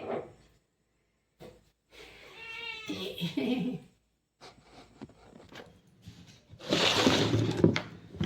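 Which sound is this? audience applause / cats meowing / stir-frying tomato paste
cats meowing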